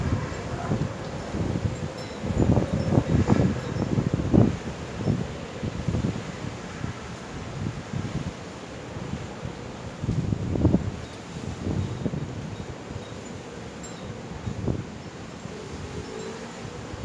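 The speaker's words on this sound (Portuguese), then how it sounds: "Que vento, gente, olha." Strong storm wind gusting around hilltop towers on a Tuesday afternoon in Ouro Fino, a broad rushing roar with repeated louder gusts buffeting the microphone, steady throughout.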